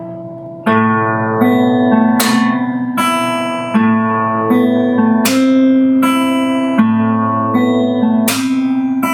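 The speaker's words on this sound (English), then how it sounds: "a melody note, plus a percussive slap at the same time" Fingerstyle acoustic guitar plays a steady repeating pattern, sustained melody notes ringing over bass, with a sharp percussive slap landing on each beat cycle.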